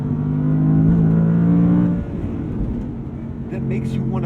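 An Audi R8 Performance RWD Coupe on Michelin Pilot Sport 4S tires carries speed through a corner, its engine a loud, steady drone heard from inside that eases off midway, with tire and road noise underneath.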